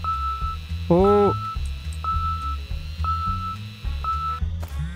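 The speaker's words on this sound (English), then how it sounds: "Kok ada alarm?" Alarm in Thief Simulator 2 sounding as a repeating electronic beep, a short tone roughly once a second over a steady background hum, with a brief voice exclamation.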